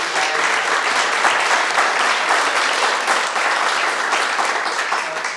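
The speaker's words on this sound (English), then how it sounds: "Diedrich, we owe him a round of applause for covering our issues." Steady applause from a room of people at a community meeting, filling the whole few seconds at an even, loud level with no voices over it.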